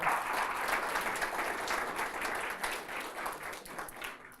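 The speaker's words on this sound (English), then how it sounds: "let's give Erica a round of applause" Lecture audience welcoming a professor with a round of applause: dense, even clapping from a sizeable crowd, close and steady throughout, tapering slightly near the end.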